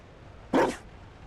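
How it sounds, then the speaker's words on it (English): A single loud, close bark from a Mabari war dog in the fantasy role-playing game Dragon Age: Inquisition, one sharp burst standing alone over quiet background ambience. "You... found a dog."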